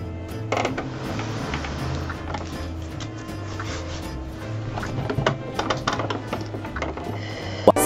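A sewing machine stitches down a placket on a woven top, a close, steady mechanical hum and chatter with a pulsing rhythm and scattered clicks throughout.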